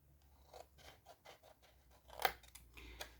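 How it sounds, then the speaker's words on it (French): Scissors snipping paper for a craft basket, a run of small quick cuts close and quiet, ending in a couple of sharper crunchy snips. "Donc, je coupe en biseau ici."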